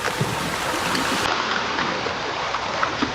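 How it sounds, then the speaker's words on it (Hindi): Oars dip and pull through water as a boat is rowed, a steady wet swishing and trickling wash running close and continuous throughout with no voices. "चप्पू पानी के अंदर।"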